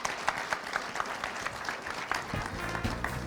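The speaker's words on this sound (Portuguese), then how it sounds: "Uma salva de palmas para essas duas feras aqui." Seminar audience applauding two speakers at a microfranchise event, a moderate burst of many hands clapping, fairly distant, with a low rumble joining near the end.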